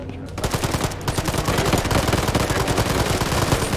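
Rapid automatic gunfire in the military shooter Arma 3, a loud, close burst of rattling shots firing in a fast steady rhythm almost throughout, with no speech.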